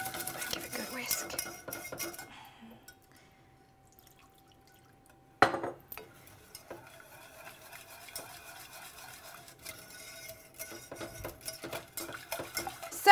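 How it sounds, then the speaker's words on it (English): A whisk working flour paste and milk into béchamel sauce in a pan, with quick metallic scraping and clinking, a quiet pause, then a sharp clank and renewed steady whisking that grows busier toward the end. "So you do it bit by bit and you whisk."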